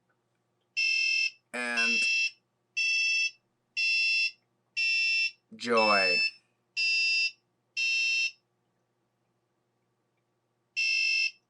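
An Elegoo Arduino passive buzzer plays a sequence of short electronic tones, eight evenly spaced loud beeps plus two sweeping pitch glides, with a pause before a final beep and a brief spoken voice in between.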